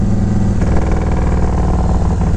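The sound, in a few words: Yamaha Road Star 1700 Silverado motorcycle engine idling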